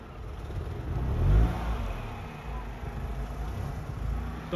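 A Tata Tigor i-CNG car rolling toward an off-road track, its engine a steady mid-level drone that swells briefly and then settles, heard close with little else around it.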